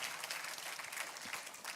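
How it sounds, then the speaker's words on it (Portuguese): An audience at a university talk gives a round of applause, a steady wash of many hands clapping that sounds fairly distant and soft, with no distinct voices rising above it. "Então uma salva de palmas para esses nossos amigos, irmãos aí"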